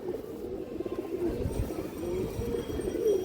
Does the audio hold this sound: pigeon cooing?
yes